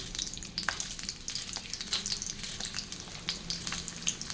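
Onions fry in a little oil in a pan, giving a steady crackling sizzle with small pops, close and moderately loud, with no talk.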